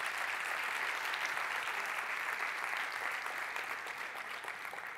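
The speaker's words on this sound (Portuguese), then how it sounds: "Uma salva de palmas, por favor." A talk audience gives a full, even round of applause for the preceding speakers, a dense sustained wash of many hands that holds steady for five seconds with little voice above it.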